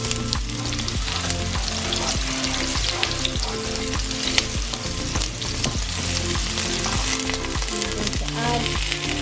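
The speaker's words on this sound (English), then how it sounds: "I'm going to put a handful of chopped onions." Chopped onions fry and sizzle in a pan for vegetable fried rice, a loud, steady crackle that runs the whole time with no talking.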